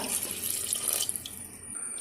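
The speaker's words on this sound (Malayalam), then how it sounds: "ഒരു ഗ്ലാസ് വെള്ളം ഒഴിക്കുക" A glass of water pours in a steady stream into a pressure cooker of duck curry for a couple of seconds, close by, then trails off into a few drips.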